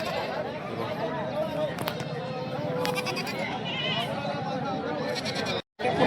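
Goats bleat at a busy goat and buck market, several calls rising over steady crowd chatter and talk, with a brief drop to silence near the end.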